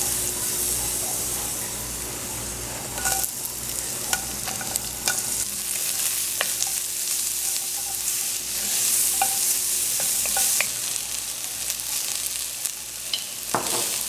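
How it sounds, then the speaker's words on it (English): Onions and grated garlic frying in oil in a pot, a steady close sizzle with occasional clicks and scrapes of stirring and a faint low hum underneath. "I've got my oil in there. I'm going to be adding in my onions and my grated garlic."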